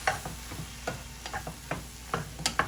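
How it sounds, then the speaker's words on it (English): Egg fried rice with soy sauce being stir-fried in a pan, a steady sizzle broken by repeated scraping and tapping strokes of the spatula every fraction of a second, close and fairly quiet. "Don't worry about the mess because we have to stir fry it like that."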